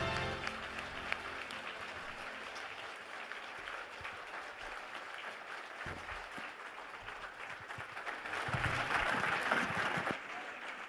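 An audience in a hall gives a standing ovation, with sustained applause that stays fairly faint and distant and swells slightly near the end.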